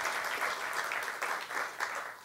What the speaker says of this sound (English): So a round of applause for the Office of Diversity and Community Affairs